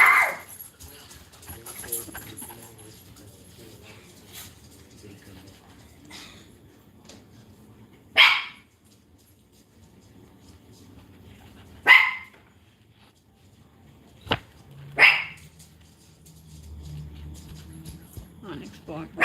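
Dog barking indoors during an evening book reading and networking gathering: a few sharp single barks spaced several seconds apart, fairly close, with people talking quietly between them.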